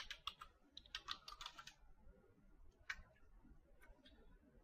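Quiet typing on a computer keyboard, bursts of light clicky keystrokes in quick runs with short pauses between, faint and close.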